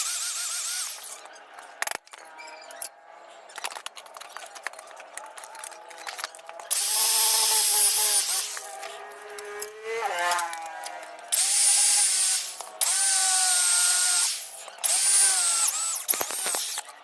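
Hand drill boring through metal parts while a PCP air rifle is assembled, with repeated bursts of grinding, whirring drilling separated by short pauses, close and fairly loud.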